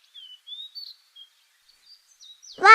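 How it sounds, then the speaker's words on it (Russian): A parrot gives a few faint, thin whistles with gaps between them, then lets out one loud, harsh squawk at the very end. "Попугай."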